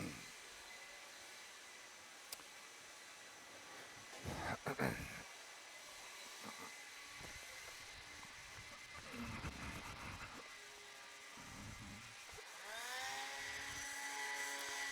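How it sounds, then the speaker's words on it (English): Leaf blowers run by marshals around an RC car race track, droning engine noise at a distance that swells and fades over about fifteen seconds, with a rising whine near the end. "Marshals, grab your blowers."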